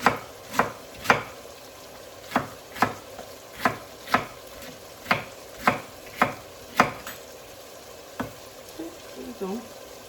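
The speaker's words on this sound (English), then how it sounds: "I want to get as much cabbage off this thing as I can without cutting too much of the stuff." A knife chops through cabbage to cut it off the core, about a dozen crisp thuds in an irregular rhythm with short pauses, close and clear, ending with faint rustling.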